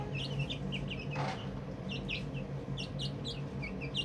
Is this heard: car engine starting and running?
no